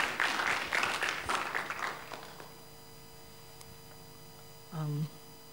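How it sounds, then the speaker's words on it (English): Audience applause at a youth leadership forum, a burst of clapping that fades out after about two seconds, leaving room hum and a brief voice near the end. "Oh, round of applause."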